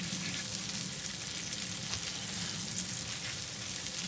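Butter and smash burger patties frying on a hot griddle, a steady dense sizzle with constant crackle that holds evenly throughout, close and moderately loud, with no talking.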